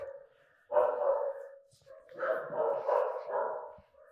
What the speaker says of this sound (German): Man hört die Hunde